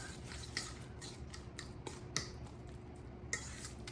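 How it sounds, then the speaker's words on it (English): Guacamole with lime juice being stirred in a bowl, a few quiet clicking scrapes of a utensil against the bowl spaced irregularly over a faint background. "let me give this another stir now that I've got all of that good lime juice incorporated"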